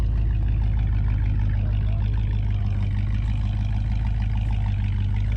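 A 1958 Chevy Biscayne hot rod engine idles with a steady, loud, low rumble, holding an even throb close by throughout with no voices over it.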